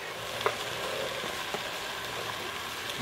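Diced onion and garlic frying in a pan while cooking mofongo, giving a steady, close hiss of sizzling with a few faint clicks and scrapes and no talking.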